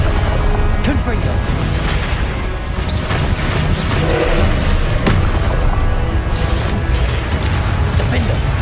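Confringo fire spell blasts in the PS5 video game Hogwarts Legacy, a series of loud booming bursts and crashes over continuous battle noise, with a voice calling out spell names.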